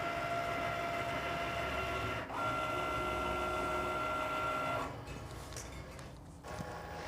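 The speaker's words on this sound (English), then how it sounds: "we're just going to load this into our machine. And then once it has loaded, we're gonna press the Cricut button." A Cricut cutting machine working with a fine point blade gives off a steady mechanical whir with a high tonal hum and faint creaks, then drops quieter near the end with a few soft clicks.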